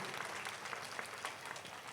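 A congregation at a church feast-day service claps together in a dense, steady round of applause, slightly distant and fairly soft, with no clear talking.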